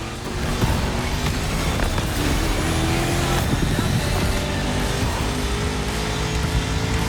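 A powerful 1969 Mustang Boss 429 engine in The Crew Motorfest video game roars steadily and loudly throughout, its pitch shifting slightly as it revs.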